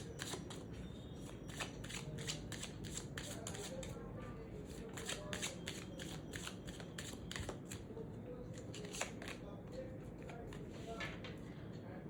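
Tarot cards are shuffled and handled in quick, faint riffling and flicking bursts that repeat throughout, soft and close in a quiet room, while a person talks over them.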